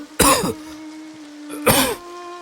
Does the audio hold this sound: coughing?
yes